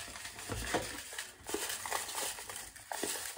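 Paper slips carrying children's names are shuffled together by hand, giving soft, close crinkling and rustling in uneven bursts at low volume.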